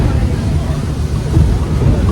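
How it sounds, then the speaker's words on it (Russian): A loud, steady roar of wind and engine as a speedboat pounds across sea waves off Bali, with constant low rumbling and rushing noise. "Скачем по волнам, это просто жесть"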